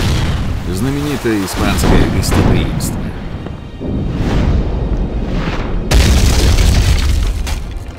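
In a pirate video game, heavy booms of cannon fire from a fort roll out repeatedly amid rumbling, smoky battle noise, while someone speaks briefly in Russian over the barrage.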